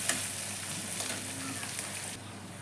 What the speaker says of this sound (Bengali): পেঁয়াজটা মোটামুটি 2-3 মিনিট ধরে খুব সুন্দরভাবে ভেজে নিতে হবে।